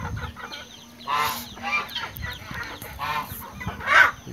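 Índio Gigante chickens cluck loudly and close by, with a run of short, throaty bursts from the flock coming in uneven clusters.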